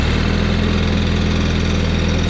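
A John Deere 318 lawn tractor engine with low hydraulic fluid runs loud and close, a steady throbbing drone with little change in pitch over the short stretch.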